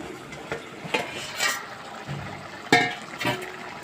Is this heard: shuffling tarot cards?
no